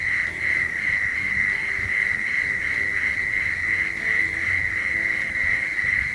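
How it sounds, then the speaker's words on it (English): A dense, continuous chorus of prairie mole crickets chirping together, a steady buzzing drone with a faint pulsing texture and no pauses. "This is how it sounds when several prairie mole crickets are calling simultaneously."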